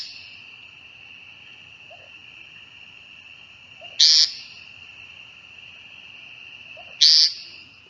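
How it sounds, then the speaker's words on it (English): An American woodcock giving two short, buzzy nasal calls spaced a few seconds apart, heard over a steady high insect drone at night. "So here's the woodcock song,"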